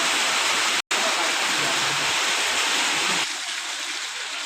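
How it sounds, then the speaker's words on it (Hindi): Heavy July monsoon rain pouring down in a village, a loud, dense, constant hiss of downpour with one abrupt dropout near the start and a slight softening toward the end. "2024 की जुलाई की बरसात है, दूसरी बरसात।"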